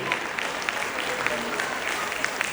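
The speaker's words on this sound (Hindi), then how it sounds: "जोरदार तालियां, ऐसे ही बजते रहना चाहिए" An audience at a school annual function breaks into loud, sustained applause, dense steady clapping that fills the hall while an announcer speaks over it.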